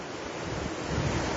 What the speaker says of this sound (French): La rivière de la Vaitapiha est sortie de son lit hier après-midi.